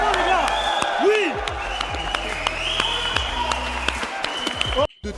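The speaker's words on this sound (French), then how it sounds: "On les applaudit vraiment, les gars." Audience applauds after a bare-knuckle fight won by TKO, scattered claps and crowd noise under a busy mix with tonal sweeps, ending abruptly.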